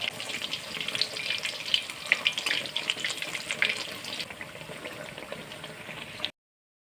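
Gram flour battered brinjal slices frying in hot refined oil in a kadai, a close bubbling sizzle with bright crackling pops that eases off toward the end before cutting out, no voices.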